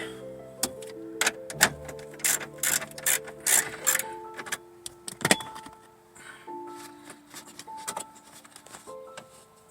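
A ratchet loosens the bolts on a Chevy gauge cluster, giving quick runs of close, sharp clicking with pauses in between, along with metallic handling and a few tonal squeaks.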